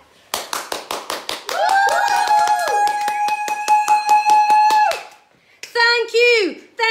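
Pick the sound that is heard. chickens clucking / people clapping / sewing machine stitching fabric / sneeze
people clapping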